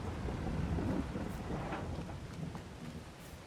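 Steady rain falls with low rolling thunder rumbling beneath it in a farming video game, loud at first and easing slightly, with a few brighter crackles scattered through the storm and no talking.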